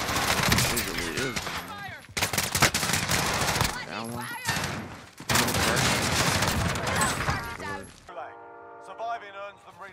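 Rapid automatic Oden rifle fire from the Warzone (Modern Warfare) video game, dense bursts broken by short gaps, with a voice talking over the shooting before it cuts to quieter game sounds near the end.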